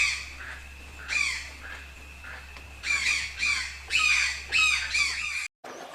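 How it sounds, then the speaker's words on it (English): Mitered parakeets in the Amazon rainforest give a series of harsh, loud squawks in quick bursts, about seven calls, some overlapping, with no voices. "The mitered parakeet, its green plumage flecked with red, uses its strong beak to manipulate food and navigate. These are noisy, social birds."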